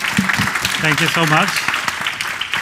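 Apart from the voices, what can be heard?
audience applause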